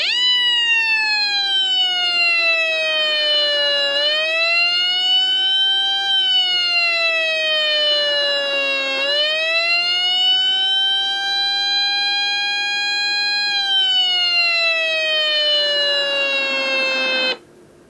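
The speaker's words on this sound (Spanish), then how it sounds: "Y de esta manera podríamos operar esta sirena policial." An electronic police siren circuit built from a CEKIT lab kit wails loudly and continuously, its tone sweeping up and down in slow glides as a pushbutton is pressed and released, then cutting off abruptly at the end.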